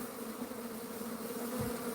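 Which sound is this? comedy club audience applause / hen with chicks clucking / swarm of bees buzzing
swarm of bees buzzing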